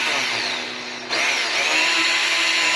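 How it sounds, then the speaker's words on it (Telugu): A power drill bores a hole in wood with a drill bit of the kind used to fit concealed and soft-close hinges. It makes a steady, close, high whine that dips briefly about a second in, then picks up again and holds. "మనం ఉపయోగించే ఈ డ్రిల్ బిట్ అనేది ఎలా రంధ్రం పెడుతుందో మీరు ప్రాక్టికల్గా"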